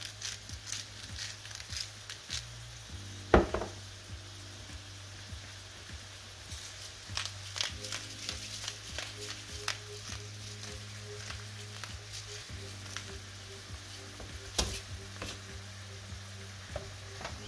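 Seasoned vegetables with salt and pepper sizzling in a frying pan while being mixed, a steady crackling fry with occasional scrapes and clinks, close by, faint background murmur.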